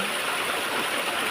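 Lel Falls, a waterfall feeding a stream, gives a steady, full rush of water that holds at an even level throughout, with no voices over it.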